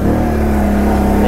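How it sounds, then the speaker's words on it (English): Engine of a Can-Am Renegade 800 ATV roars in a loud, close, steady drone for a brief moment, with no voices over it. "I do love the sound of these motors and the power."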